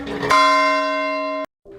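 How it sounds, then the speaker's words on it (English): A bell rings for a bell healing session: after a brief muffled rustle, a single loud, clear strike rings with a long sustained tone that decays slowly, then is cut off abruptly, leaving a faint low hum. "Welcome to your nightly bell healing session."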